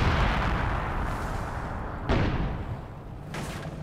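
Tank guns boom in a Company of Heroes 2 battle, a heavy continuous rumble of combat punctuated by two sharp cannon blasts, one near the middle and a fainter one toward the end.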